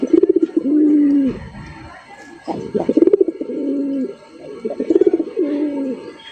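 Fancy racer pigeons coo in repeated rolling phrases close by, several soft throaty bursts separated by short pauses, with faint background chatter.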